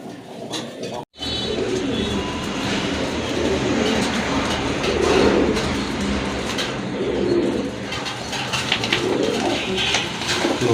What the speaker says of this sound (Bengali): আরেক জোড়া কবুতর দেখেন